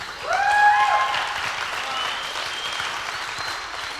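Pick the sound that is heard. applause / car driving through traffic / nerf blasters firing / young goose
applause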